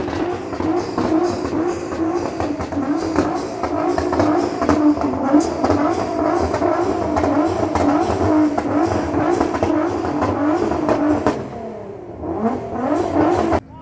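A Lamborghini Temerario with a Voodoo exhaust roars loudly and continuously close by, with crackling pops layered through the revving engine; the noise dips briefly near the end before surging back.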